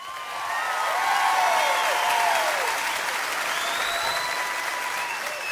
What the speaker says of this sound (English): What do you say we bring back one more time a nice round of applause for the Wreckers?